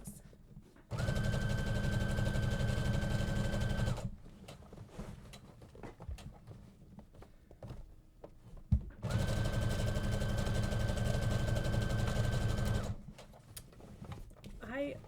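A domestic sewing machine stitches cotton poplin for a tote bag in two steady bursts of about three and four seconds each, a fast buzzing hum with a clear whine, separated by quieter handling noises.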